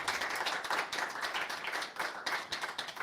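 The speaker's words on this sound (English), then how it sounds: "I would like to firstly just give a warm round of applause to all our panelists" Warm round of applause for a panel of speakers at a public health discussion, dense steady clapping from a sizeable audience lasting throughout, fairly close and moderately loud with no talk over it.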